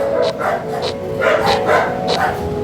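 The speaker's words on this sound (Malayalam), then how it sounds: "ഈ വീഡിയോ പട്ടിയൊക്കെ കുരയ്ക്കുന്നുണ്ടാവും." Several dogs bark outdoors in a steady run of overlapping barks and yips, loud and continuous across the moment.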